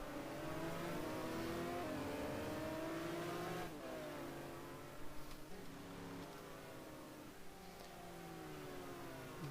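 Race cars in a Ferrari versus McLaren battle in a GT1 racing video game at Algarve, engines droning and shifting pitch together as they run close, steady and moderately loud with no talk.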